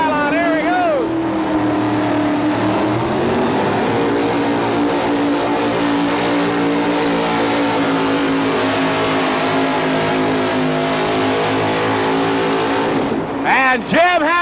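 A pulling truck's engine roars loud and sustained at a 1987 truck pull in Montgomery, revving with shifting pitch over about thirteen seconds before cutting off, then briefly revving again near the end.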